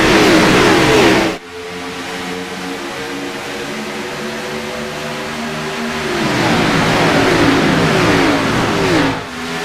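Sim race cars accelerating off the start at Las Vegas in a RealSimRacing Cup round, a loud dense roar of engines that drops briefly and then swells again as the field pulls away.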